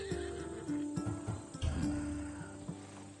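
Horse in the video game Assassin's Creed Odyssey giving a long, loud whinny with a second neigh after it, over soft hoof clip-clops and snorts, close up and without speech.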